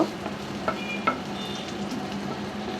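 Onions sizzle steadily in a hot pan, with a couple of sharp scrapes as they are stirred.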